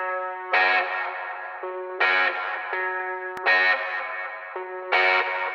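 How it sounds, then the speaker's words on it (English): Ableton's Buck Jones preset chain putting slapback delay and reverb on a harmonic, sustained musical part, repeating in four similar phrases with echoed tails, moderately loud with no voices. "Adds a little bit of slapback delay and reverb."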